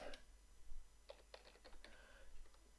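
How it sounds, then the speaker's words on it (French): Light keystrokes on a computer keyboard, a short scattered run of taps played quietly over a faint steady background hum. "j'appuie sur la touche tabulation et je tape le mot ville"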